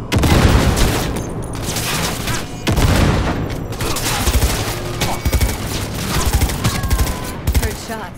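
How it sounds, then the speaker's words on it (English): Gunfire crackles through a street firefight in Cyberpunk 2077, bursts of shots and booming impacts repeating steadily across the scene, loud and close with a dense mix of game sounds. "Heard shots."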